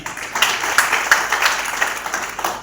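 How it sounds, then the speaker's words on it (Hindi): An audience applauds women from self-help groups at a farmers' producer organisation event, a steady patter of clapping that stays fairly even throughout and heard alone, with no voices over it. "हमारी बहनें हैं, उनके लिए जोरदार तालियां"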